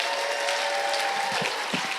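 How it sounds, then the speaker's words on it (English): A school district audience applauds its building-level Teachers of the Year at an evening celebration: a continuous wash of clapping, fairly soft and distant, with a few heavier thumps near the end. "Would you please give them one last round of applause?"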